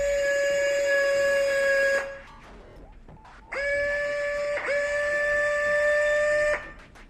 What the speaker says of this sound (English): There's a relatively loud whirring noise when you operate the laces.